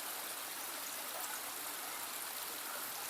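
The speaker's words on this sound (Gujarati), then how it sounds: "વાહ મિત્ર વાહ, કેવું ફર્સ્ટ ક્લાસ પાણી આવી રહ્યું છે" Water pours steadily at Bagad dam in Gujarat, an even, continuous rushing wash heard at a moderate distance with no voices over it.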